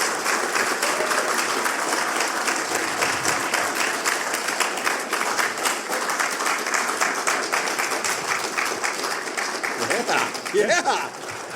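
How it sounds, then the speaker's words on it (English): Sustained, dense applause from a convention audience at HeroesCon 2020 greets comic creators Skottie Young and Jonathan Hickman, steady and loud throughout, with a few voices emerging near the end. "Let's give a round of applause to Skottie Young and Jonathan Hickman"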